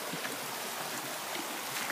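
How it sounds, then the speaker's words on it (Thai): A two-tier waterfall at a riverside resort in Thailand makes a steady, close hiss of rushing water with no breaks, and no voices are heard over it. "อันนี้คือน้ำตกอีกสองชั้นเมื่อกี้เจ็ดชั้นนี่มีสองชั้น"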